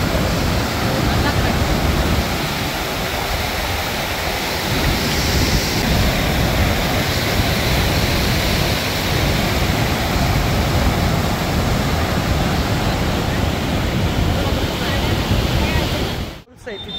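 Kundmala waterfall near Talegaon, Pune, gives a loud, unbroken roar of rushing water that holds steady throughout before cutting off abruptly at the end.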